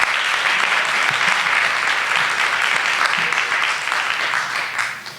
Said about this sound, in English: So join me in a round of applause for all of those individuals